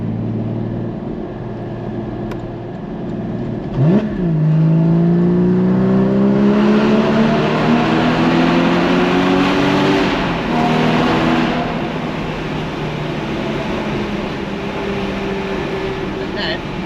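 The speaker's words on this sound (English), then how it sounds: "turning on sports exhaust, open the windows, and let's see what happens." A Porsche 981 GT4 sports exhaust roars loudly as the engine revs toward 5,000 RPM, pitch climbing steadily and echoing in a tunnel with heavy wind rush through open windows.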